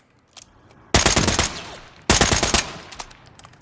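A DMR firing full auto in Call of Duty Modern Warfare III with a 10-round magazine: two loud, rapid bursts of sharp, evenly spaced shots, each tailing off into echo, with a brief pause between them.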